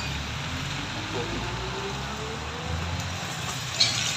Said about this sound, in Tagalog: medyo malakas pa ang ulan